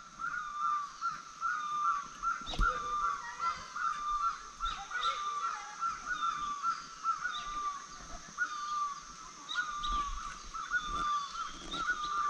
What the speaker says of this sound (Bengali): পাখির ডাক শুনুন।